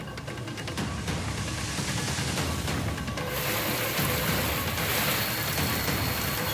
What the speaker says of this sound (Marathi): कल्याण डोंबिवलीमध्ये पुन्हा एकदा आता मुसळधार पाऊस कोसळू लागलेला आहे